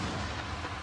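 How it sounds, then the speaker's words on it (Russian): A tank's main gun fires during a tank biathlon event at a target 1700 metres downrange, a single loud, low, rumbling boom spread across the whole brief moment with no talk over it. "Выстрел!"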